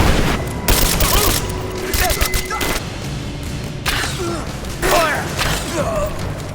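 Gunfire in the Rise of the Tomb Raider video game: repeated bursts of sharp shots and rattling volleys, loud and close, with shouted voices mixed in between.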